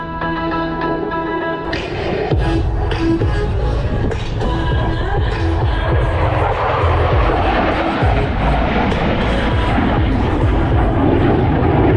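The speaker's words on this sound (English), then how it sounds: "In from the left, the F-16 and the 4-point roll." An F-16 fighter jet roars past during a four-point roll at an air show, its engine rising to a loud, broad rumble that stays strong as it sweeps by, with a faint crowd beneath.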